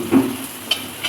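Capsicum being stir-fried for noodles gives a soft sizzle with a brief scraping stir near the start and faint clinks of a utensil against the pan.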